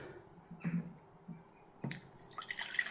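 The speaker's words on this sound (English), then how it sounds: "So we'll just add some water," Water being added to a gold-recovery solution, heard as a few faint drips and small splashes followed by a louder sloshing pour toward the end, quiet and close.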